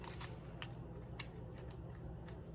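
A knife slices slits down a peeled onion set face down, giving a run of crisp, close clicks and crunches spaced irregularly over low steady background noise.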